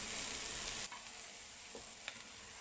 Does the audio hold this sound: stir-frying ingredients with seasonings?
yes